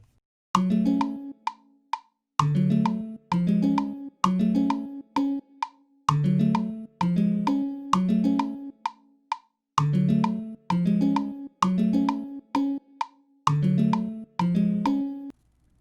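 A plucky, bell-like synth melody for a trap beat, made in GarageBand on iPhone, plays in short repeating phrases with brief gaps, clean and upfront, no voices.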